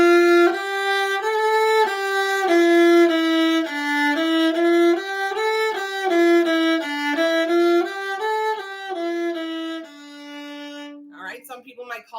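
A viola plays a slow exercise of bowed notes in a new finger pattern with a lowered third, each tone sustained and stepping up and down in a steady series before ending on a long held note.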